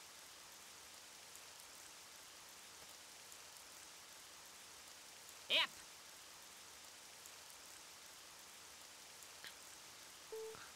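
Heavy rain falls in the tactical video game Jagged Alliance 1.13, a faint steady hiss running throughout, broken by a brief sharp sound midway and a short spoken word from a player.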